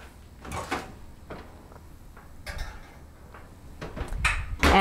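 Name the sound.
dish put into the oven, oven door handled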